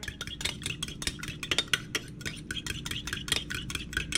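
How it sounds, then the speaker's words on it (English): A whisk beats meatloaf seasonings in a bowl in a quick, steady run of crisp clicks and taps against the sides, close up with no voices. "I'm just gonna whisk it real quick"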